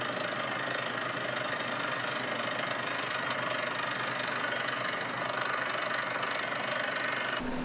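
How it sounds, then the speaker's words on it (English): A separate 380 horsepower diesel engine powering a well drilling rig drones continuously at a steady, loud pitch, with a faint knocking rhythm and no talk. "The rig is powered by a separate 380 horsepower diesel engine"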